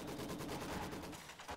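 Mortar barrage pounding a machine gun position inside a house in Company of Heroes 2, a dense, rapid rumble of overlapping shots and blasts filling a short stretch, steady and fairly loud with no talking.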